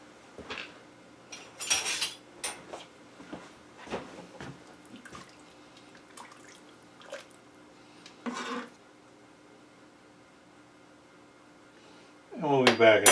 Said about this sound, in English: And then I'll give that a stir.